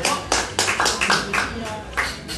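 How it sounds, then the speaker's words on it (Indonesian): A stand-up comedy crowd claps in a short burst of loud, uneven rhythmic claps, close and punchy, with some voices mixed in. "Tepuk tangan dulu ya."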